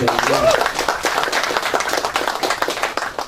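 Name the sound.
audience clapping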